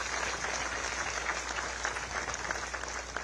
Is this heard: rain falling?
no